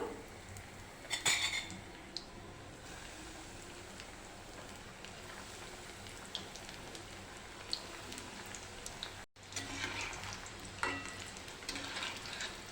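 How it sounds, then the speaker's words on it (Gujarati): Potato rolls deep-frying in hot oil give a steady, close crackling sizzle throughout, with occasional scrapes and clinks of stirring utensils and no talking. "બીજા રોલને પણ તળી લઈશું"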